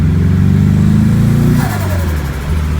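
A Ford RS Turbo is driven on snowy, salted winter roads, its engine note steady and loud before easing off, with the turbo chattering sharply as the throttle lifts; no talking over it.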